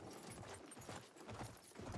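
A horse moves in the Battlefield 1 video game, its hooves giving a soft, muffled clip-clop of irregular thuds over a steady background wash, faint and without speech.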